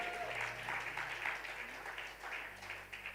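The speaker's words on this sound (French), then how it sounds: "J'aimerais que tu acclames très fort pour le I'd like Seigneur." A church congregation applauds for the Lord, producing sustained, dense clapping from a crowd that continues throughout at an even level, with faint voices mixed in.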